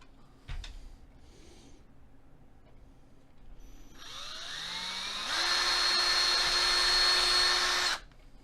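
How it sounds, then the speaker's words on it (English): Power drill boring into a Nintendo NES console case during an HDMI kit install, a brief knock and low start, then the motor whining up in pitch and holding a loud steady drone for a few seconds before cutting off. "I don't want to drill into my desk"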